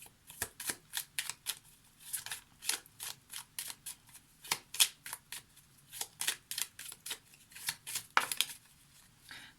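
A deck of oracle cards is being shuffled by hand in quick, repeated riffling bursts, close and crisp, with short pauses between them and no talking.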